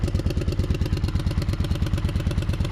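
A Kawasaki Vulcan 750 motorcycle engine idles steadily right after starting, a loud, close, even rhythmic chugging with mechanical clatter and no talk.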